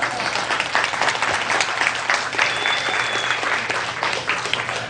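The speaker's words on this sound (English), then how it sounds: "Give a nice round of applause." An audience at a hypnosis seminar applauds steadily for several seconds, a dense, continuous clatter of clapping hands from a room full of people.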